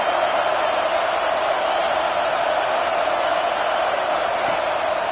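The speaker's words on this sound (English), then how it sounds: "Listen to this crowd just shaking the girders of this place" Loud stadium crowd at a video-game football match, a dense, constant roar of many voices that holds steady and unbroken from start to finish.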